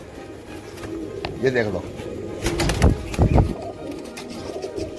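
Pure-bred Heera Laal pigeons coo softly inside a crowded cage, low rolling coos with a brief wing flutter, heard under a man's speech.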